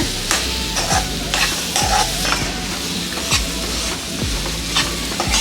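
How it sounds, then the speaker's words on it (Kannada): Banana laddu mixture stirred in a pan over a low flame, a steady scraping swirl with repeated spoon knocks against the pan and a soft sizzle beneath, close and continuous. "ಲೋ ಫ್ಲೇಮಲ್ಲಿ ಇಟ್ಕೊಂಡು ಇದನ್ನು ಇದೇ ರೀತಿ ಮಿಕ್ಸ್ ಮಾಡ್ಕೋತಾ ಹೋಗಬೇಕು"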